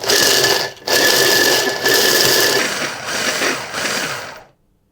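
Pistachios ground with sugar in a motorized grinder, a loud continuous high whirring buzz that holds for about four seconds with a couple of brief dips before cutting off into silence.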